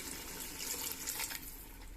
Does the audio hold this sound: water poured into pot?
yes